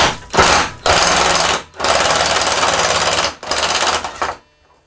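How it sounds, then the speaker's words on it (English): An impact gun loosening a tight valve on a Coleman 200A lantern, delivering loud, close bursts of rapid hammering with brief pauses between them before it stops and falls silent. "the repeated sudden impacts of the gun make removing something that's very tight much easier"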